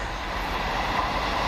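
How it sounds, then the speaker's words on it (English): Arriva Trains Wales passenger service to Birmingham International arriving, a steady close rumble of the train with broadband roar and no breaks, continuous through the clip. "Coming up the 1422 Arriva Trains Wales service from Harlock and Aberystwyth to Birmingham International"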